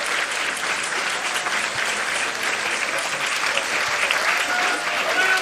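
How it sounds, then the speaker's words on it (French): An audience applauds the Auvergne accordionist Sylvie Pullès as she takes the stage, a dense, steady wash of many hands clapping at full strength throughout, with a faint hum of crowd voices underneath. "sous vos applaudissements"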